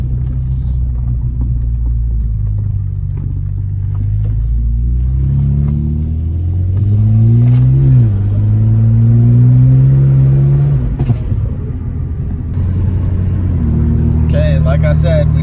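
A BMW E30 fitted with an N54 engine drives at easy throttle, a steady low engine rumble that rises and falls as it goes through gears, filling the cabin with a loud, continuous drone.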